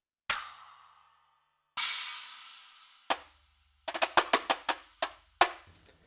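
Strikes on newly added expansion cymbals and a tom-tom of an Alesis Strata Prime electronic drum kit: two long washy cymbal hits with decaying tails, a single drum hit, then a quick run of about eight sharp hits, played alone.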